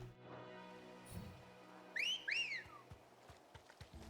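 Whistle summoning a chocobo in Final Fantasy XVI: two bright, rising-and-falling whistled notes in quick succession, clear and up front over a low game ambience.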